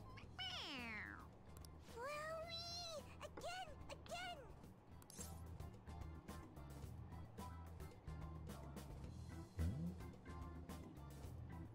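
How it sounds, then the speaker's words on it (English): A cat toy in Persona 5 Royal meows when its head is pressed, giving several clear, high, sliding meows early on over steady game music, followed by quieter background sounds. "It meows when you press on its head."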